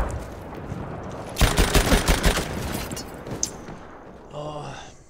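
Machine gun fire in the video game Battlefield 1: a loud, rapid burst of shots lasting about a second, set against a busy battlefield din, with a short voice near the end.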